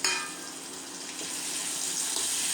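Chutney ingredients with a little tamarind fry in a pan for hotel-style red chutney, giving a steady, close hiss of sizzling that holds level throughout with no voices.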